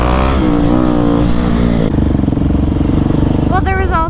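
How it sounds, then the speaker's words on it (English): A motorcycle burnout at a bike rally in Seattle fills the air with loud, sustained engine roar and revving, close and heavy, with rising pitch sweeps near the end. "you're getting a burnout next to you"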